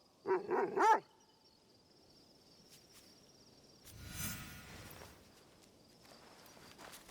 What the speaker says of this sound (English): Auntie Matsu always told me to look out for strange dogs.